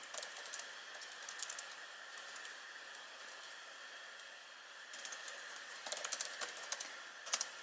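Fingers typing on a computer keyboard in a workshop, a steady patter of light, close key clicks with a few louder bursts near the end.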